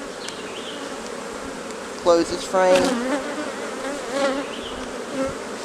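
Steady droning hum of many honeybees buzzing close by at an open hive, with a person speaking briefly partway through.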